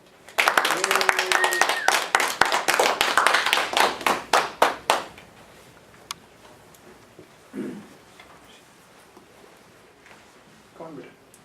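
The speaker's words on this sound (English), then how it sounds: "Please give a round of applause for, last but not least, Tavisha" A small audience of students gives a round of clapping for a girl named Tavisha at a school speech event, a brisk burst of many close hands that thins out and stops after a few seconds, leaving quiet room tone and a few faint stray claps.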